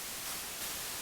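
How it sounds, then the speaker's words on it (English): Broadband noise from a noise generator in Ableton, shaped into a windscape: a steady, loud hiss with a slight swell partway through and no talk. "So I'm going to use noise here, right?"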